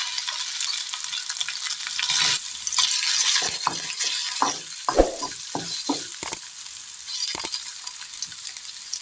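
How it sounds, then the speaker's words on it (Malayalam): Soya chunks dropped into hot oil in a pan sizzle loudly up close, and repeated scraping and stirring knocks punctuate the steady frying hiss. "ഇനി ഇതിലേക്ക് നമുക്ക് മിക്സ് ചെയ്ത് വെച്ചിരിക്കുന്ന സോയ ചങ്ക്സ് ഇട്ട് കൊടുക്കാം"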